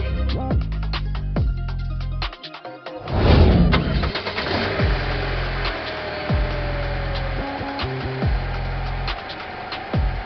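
A car engine cranks with a ratcheting whir, catches and starts, then settles into a steady idle with repeated mechanical clicks, close and fairly loud with no talk.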